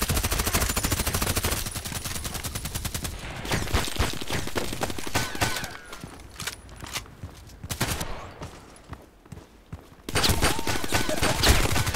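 Rapid automatic gunfire in the online shooter Contract Wars, dense bursts and fusillades filling most of the stretch, with a brief lull of scattered shots before heavy firing resumes loudly at the end.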